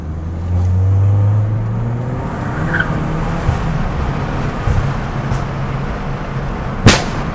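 A Peugeot 208 GTI with a pop-and-bang tune is heard from inside, its engine note climbing and dropping, with a few sharp crackles and one loud bang near the end, steady and fairly loud throughout.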